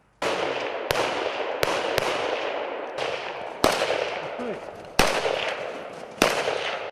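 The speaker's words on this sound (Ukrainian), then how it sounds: "Зараз буде проводитись заняття з вогневої підготовки." Gunshots ring out during military firearms training by territorial defence brigade soldiers at a training range: about seven sharp, fairly close reports at irregular intervals over a constant noisy outdoor background.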